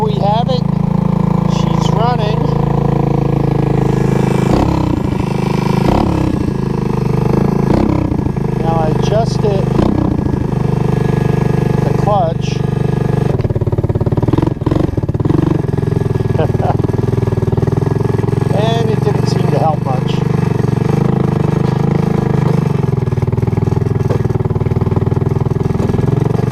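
A Honda ATC185 three-wheeler engine runs steadily at a loud idle, with a continuous low throb and occasional small revs and clicks, while someone talks over it throughout.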